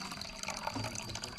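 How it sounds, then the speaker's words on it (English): A small stream of water runs from a pipe in a village, a soft, steady trickle and splash that stays faint and continuous, with no talk. "Look at this little stream from the pipe."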